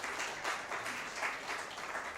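Audience applause at a national finals event, a dense, steady wash of many hands clapping that continues evenly throughout.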